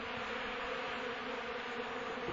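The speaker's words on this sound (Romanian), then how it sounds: "laptele praf este cules cu multă frenezie de către albinițe" Honeybees gathering powdered milk in early spring make a dense, continuous buzzing that stays loud and even, the sound of many insects swarming close together with no voices present.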